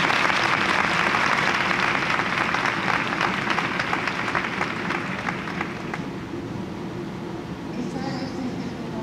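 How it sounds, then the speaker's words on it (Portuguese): Sustained applause from an audience at a talk on early childhood, steady and dense, then thinning slightly toward the end. "Então eu vou começar pedindo um aplauso para a tradutora."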